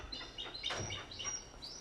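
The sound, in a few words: birds chirping outside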